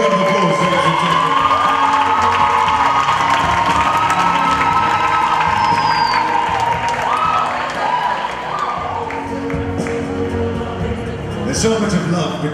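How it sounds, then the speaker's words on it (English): A large audience at a South African pageant cheers, whoops and applauds the queens on stage, a dense, steady roar of clapping and shouting that stays loud throughout with slight swells near the end. "Let's give the rest of the queens a big round of applause, ladies and gentlemen"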